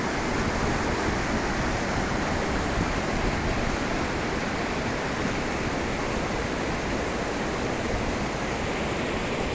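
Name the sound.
waterfall pouring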